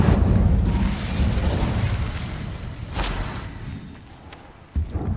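An Incendio fire spell cast in Hogwarts Legacy: a loud whooshing, roaring burst that fades, with a sharp pop near the end.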